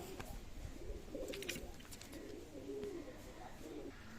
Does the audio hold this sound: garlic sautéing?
no